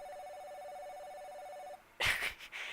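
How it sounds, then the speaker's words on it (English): A telephone rings with a steady electronic trill for nearly two seconds, then cuts off and is followed by a burst of louder, brighter noise. "I can hear the phone ringing."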